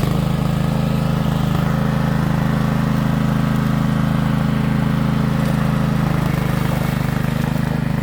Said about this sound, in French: Allez, on démarre le moteur.